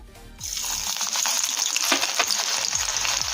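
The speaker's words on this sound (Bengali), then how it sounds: "গরম তেলের মধ্যে দেবো প্রথমে রসুন কোচানো" Chopped garlic drops into hot oil for chilli cauliflower, bursting into a loud, steady sizzle after a brief quiet start, with faint scraping stirs through the frying.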